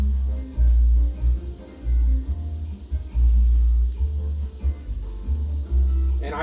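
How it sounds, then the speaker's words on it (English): Shrimp sizzle and crackle steadily in hot oil over medium heat, with a low rumbling underneath that rises and falls. "I can hear that sizzle, yep"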